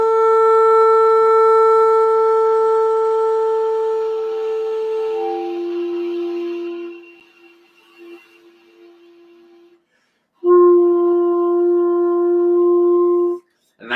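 A saxophone holds a bright, buzzing multiphonic that fades and dips into a lower undertone, then after a short silence sounds a clear, steady low note, loud and close.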